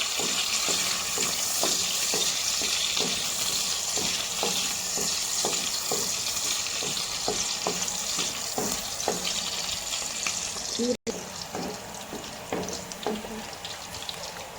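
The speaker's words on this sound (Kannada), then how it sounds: "ನೆಕ್ಸ್ಟ್ ಬೇವು ಸೊಪ್ಪು ಫ್ರೈ ಮಾಡಿಕೊಳ್ಬೇಕು" Bevu soppu leaves frying in a pan, a steady bright sizzle with regular scraping and stirring taps, close and loud, briefly cut by a short dropout near the end.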